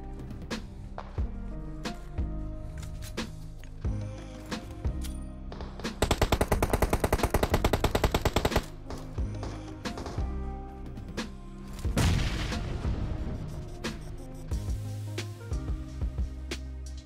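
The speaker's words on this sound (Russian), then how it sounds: "Стреляют в кемпе, пойдем в кемп тогда" Automatic weapon fire in the mobile battle-royale game PUBG Mobile, scattered single shots and a sustained rapid burst, then another heavy volley, loud and close with no talk.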